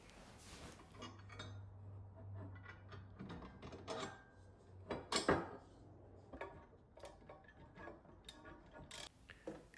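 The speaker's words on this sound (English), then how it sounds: "Bolt the light bracket onto the mount and tighten it up." A Jeep light bracket is bolted to its mount and tightened, quiet close metallic clinks and ratchet clicks in irregular bursts, with a brief low whir under them.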